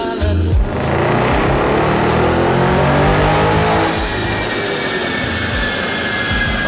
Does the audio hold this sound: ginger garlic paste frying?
no